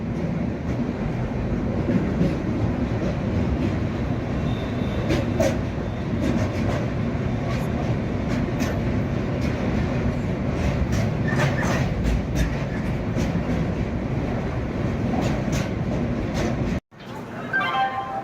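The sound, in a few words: train crossing a river bridge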